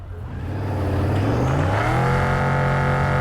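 A muscle car's engine in Cyberpunk 2077 revs up from low idle into a loud, throaty, rising roar with clear harmonic pitch sweeps as it accelerates, and no speech over it.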